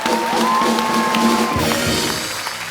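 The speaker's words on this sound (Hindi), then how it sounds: "रहमान साहब के लिए एक बार जोरदार तालियां हो जाएं" Studio audience on a TV comedy show cheering and applauding for Rahman, a steady loud crowd roar with shouts and whoops throughout.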